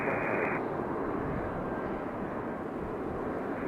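A Boeing 717 airliner arriving at Raleigh-Durham airport produces a steady, loud broadband engine roar that holds evenly throughout.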